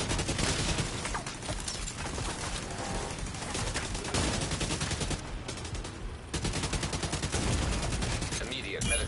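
Sustained gunfire in the shooter game Division 2, dense rapid bursts of automatic fire filling the whole stretch, loud and close, with a few momentary gaps between volleys.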